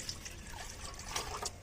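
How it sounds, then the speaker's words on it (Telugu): Water poured into a large bowl in a kitchen, a soft, brief trickle and splash lasting under two seconds, faint and close, with no speech. "అందులో నీళ్ళు పోసుకోండి."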